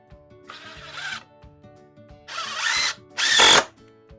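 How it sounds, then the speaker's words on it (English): A power drill drives three-inch screws into a wooden barstool during assembly, three separate whirring bursts, the last loudest and highest, with quiet pauses between them and no talking. "I drive 4 screws."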